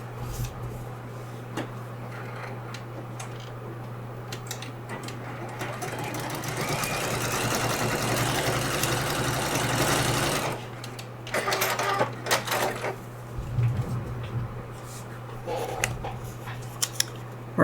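A sewing machine stitches fabric for a paper-pieced quilt, a steady mechanical whirring hum that speeds up into a louder continuous run in the middle, then stops into short bursts and handling clicks, with no talking.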